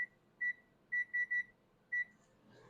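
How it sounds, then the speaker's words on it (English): A kitchen timer being set while cooking chicken tikka masala gives short, sharp electronic beeps: one, then a quick run of three, then another, evenly pitched and fairly close, with faint background noise and no talk. "I'll set the timer 20."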